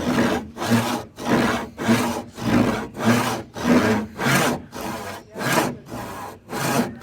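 Hand saw cutting a wooden tenon joint, worked slowly and carefully: about ten steady back-and-forth rasping strokes in an even rhythm, close and clear, with no talking.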